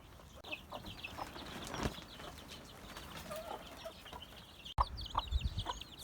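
A broody hen outdoors clucks in soft, scattered bursts, joined by other fowl sounds and faint wind noise.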